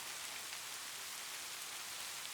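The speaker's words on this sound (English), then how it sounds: "The light from the candles flicker as you hear rain falling softly outside." Soft rain falls steadily outside, an even, close hiss of drops with no voices, constant and unbroken for the whole stretch.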